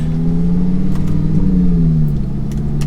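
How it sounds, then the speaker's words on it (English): A rebuilt, previously crashed Lamborghini Gallardo drives on the road, its engine a steady, loud low drone from inside the car with slight shifts in pitch as it holds speed. "But certainly nice to see the car driving."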